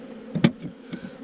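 Honeybees buzzing close by at an opened hive during a split, a brief burst of insect buzz rising and fading over low hive noise.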